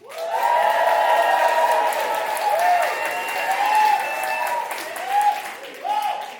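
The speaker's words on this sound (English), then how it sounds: "Please make some noise if the person that you want to advance is James Mack." A live crowd at a New York one-liner comedy competition applauds and cheers loudly and continuously to vote for a comedian, with whoops and shouted voices, before the noise tapers off in a few final bursts.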